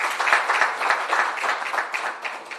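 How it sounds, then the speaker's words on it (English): Audience at a World Water Day panel discussion on women's leadership applauds for Women's Month, a dense even wash of clapping from a room full of people, steady and moderately loud with no voices over it. "a round of applause for Women's Month."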